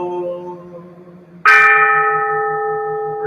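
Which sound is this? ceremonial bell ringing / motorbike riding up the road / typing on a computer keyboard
ceremonial bell ringing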